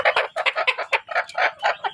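Desi chickens roosting at dusk on a poultry farm cluck in a rapid, overlapping chorus of short calls, close and fairly loud, with no voices over them.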